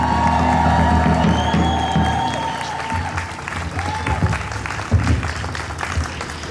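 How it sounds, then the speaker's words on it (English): Applause and cheering from an audience at an event held by Australian parliament members, loud and sustained through the whole stretch with whoops rising above the clapping, then tapering slightly toward the end. "Please give him a round of applause."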